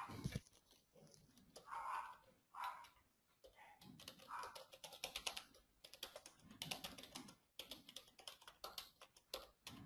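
Keys clatter on a computer keyboard in close, quiet bursts of rapid typing with brief pauses between words.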